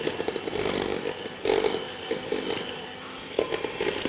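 An electric mixer creams butter and sugar for a chocolate and walnut cake batter, giving a steady buzzing whir with a few brief surges and scraping knocks against the bowl.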